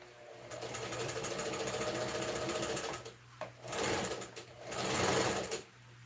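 A domestic sewing machine, long unserviced and needing oil, runs in bursts: a sustained rattling whir for about three seconds, then a few shorter starts and stops, close and fairly quiet.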